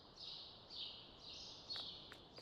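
Faint high chirping birds trill in repeated bursts over a quiet background hiss, with a few short clicks near the end, in the video game Farming Simulator 19.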